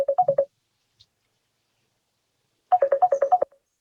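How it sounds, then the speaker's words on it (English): A phone ringtone sounds in two bursts of rapid repeating tones during a psychiatry plenary lecture, a short burst first, then a longer one after a silent gap. "the phone started ringing"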